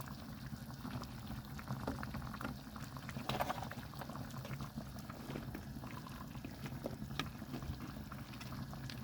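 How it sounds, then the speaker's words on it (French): Broth in a pot of beef and carrot stew bubbles at a steady simmer, a soft continuous burble with scattered small pops, quiet and close, with no talking over it. "si vous voyez qu'il n'y a pas assez de bouillon, eh ben, on va laisser bouillir."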